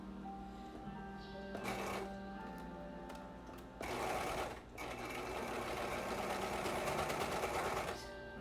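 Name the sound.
sewing machine stitching two fabrics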